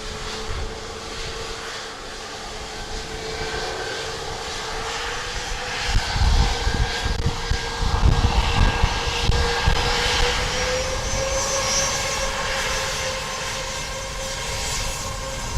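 A Dubai Air Wing Boeing 747 arrives at Dublin Airport, a steady airliner engine roar heard from a distance that swells and rumbles louder midway through, then settles into a sustained drone.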